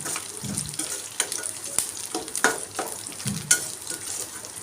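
Garlic and curry leaves fry in a pan over a slow flame, giving a continuous crackling sizzle with sharper pops and occasional stirring scrapes close by.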